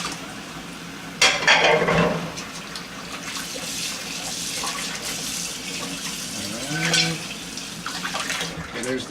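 Very hot tap water runs into a kitchen sink while plates are rinsed, a steady watery flow with clinks of dishes, and a voice speaks briefly partway through.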